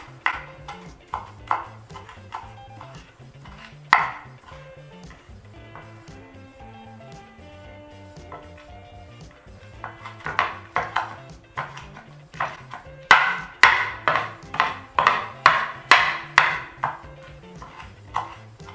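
A knife chops an aromatic ingredient into small pieces while preparing an ancient Roman focaccia, giving a run of sharp taps on a board, sparse at first, then a dense, louder burst of rapid chops near the end over a faint background tone.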